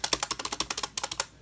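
Rapid keystrokes on a worn Logitech MK250 keyboard, about a dozen crisp clicks in quick uneven rhythm, close and clear, then stopping.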